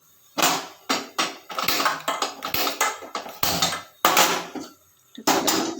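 A cooking pot is set on a gas stove, heard as a close series of sharp metallic clunks and knocks separated by brief pauses.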